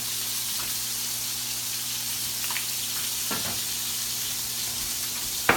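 Potato pancakes (latkes) sizzle and fry steadily in a pan of oil, a constant close crackling hiss with a few brief clinks near the end.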